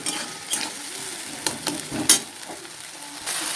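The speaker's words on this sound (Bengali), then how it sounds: "পেঁয়াজের সাথে দিয়ে পেঁয়াজটা কষিয়ে নেবো" Onion with spice paste is stir-fried in a pan for whole potol kosha, giving a close sizzle under repeated scraping and clacking strokes of a spatula, with no talking.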